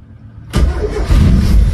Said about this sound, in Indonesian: Jangan ditekan gini terus walaupun mesinnya sudah bunyi. Nanti dinamo starter kalian bakal rusak.